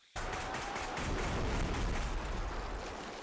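Sustained rapid gunfire from the Bodycam video game bursts in abruptly after a short silence, a dense, loud barrage of shots and booms filling the rest of the moment with no talking.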